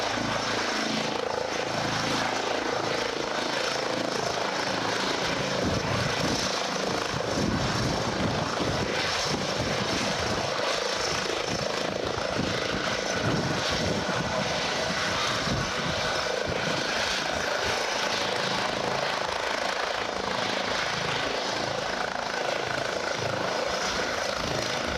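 A Norwegian air ambulance helicopter in flight and landing, its engine and rotor making a loud continuous roar that holds steady for the whole stretch.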